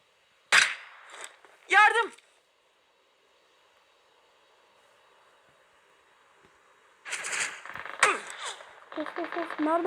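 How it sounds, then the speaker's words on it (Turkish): Sharp gunshots crack out in the open, one loud report near the start followed by another, then after a quiet stretch a further burst of shots with strained, urgent voices shouting between and over them. "Nereden sıktı lan adam?"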